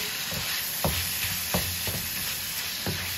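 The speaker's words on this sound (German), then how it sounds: "In der Zwischenzeit, wo der Reis langsam aufkocht und unser Fleisch anbrät" Ground beef frying in a pan for a beef and rice skillet, a steady sizzle and hiss with several sharp scraping stirs of a utensil against the pan, close and fairly loud.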